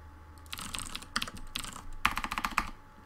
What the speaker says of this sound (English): So when I start typing